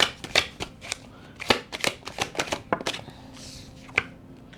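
Tarot cards being shuffled and drawn, a run of crisp, close riffling snaps and soft card slaps in an irregular rhythm, loud and alone with no talking.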